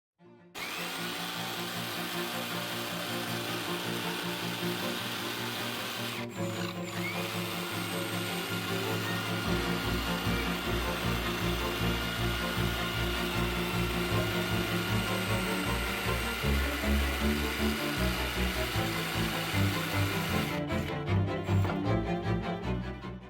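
A power multi-tool with an oscillating blade drones steadily through wood for a long stretch, its loud, continuous buzz shifting slightly in pitch as the dulling blade bites, with no voices.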